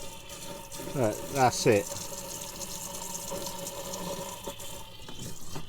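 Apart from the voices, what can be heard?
water tap filling up slowly at low water pressure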